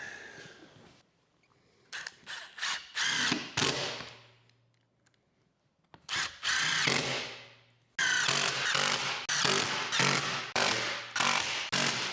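Power drill driving screws into a wooden concrete form clamped to tubing, outdoors: several short bursts of whirring motor with sharp starts and stops, close and fairly loud, separated by brief pauses and faint background.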